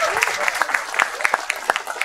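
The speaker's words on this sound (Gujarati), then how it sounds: "એકવાર પોતા માટે તાળીઓ, થેન્ક યુ." Scattered applause from a comedy show audience in Ahmedabad, distinct individual claps at an uneven rhythm rather than a full ovation, with a voice briefly at the start.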